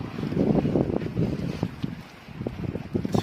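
Wind buffeting a microphone outdoors beside a 14 ft boat under restoration, heard as uneven low rumbling gusts with small knocks, moderately loud and steady with a brief lull, no voices.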